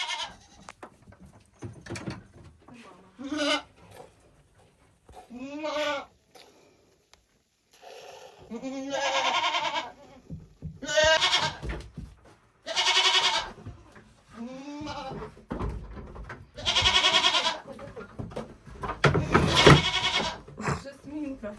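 Goats on a village farm bleat repeatedly and loudly close by during milking and grazing, wavering cries in bursts every second or two, with some people talking between them.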